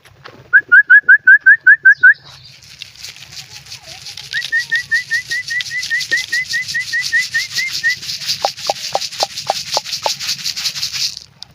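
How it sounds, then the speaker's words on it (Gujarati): Pigeons gathering to be fed grain: quick, evenly spaced chirping calls in repeated runs over a soft hiss, ending in a string of sharp clicks and wing flaps, close by and with no talking. "આપણે દાણા લઈને કબૂતરને બોલાવીએ"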